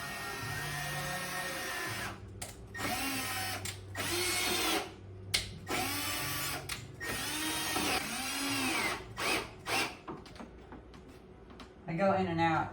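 A power drill drives a screw into an oak bookshelf, whirring loudly in repeated short bursts with brief pauses as the bit is pulled in and out.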